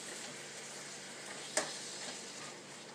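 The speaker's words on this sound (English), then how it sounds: "This is really just sauteing to the point where it kind of caramelizes a little bit" Sweet yellow Vidalia onions sauté in a pan, giving a soft, continuous sizzle at low level with one brief clink partway through.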